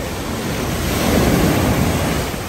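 Ocean waves wash steadily onto a beach in Cabo, a continuous broadband surf roar that swells slightly mid-clip, with wind buffeting the microphone and no voices.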